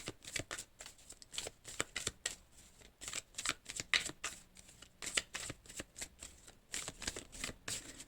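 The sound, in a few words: shuffling cards for a card reading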